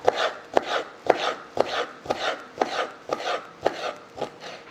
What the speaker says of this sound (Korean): 보통 전어는 이렇게 해서 그대로 잘라주시면 됩니다.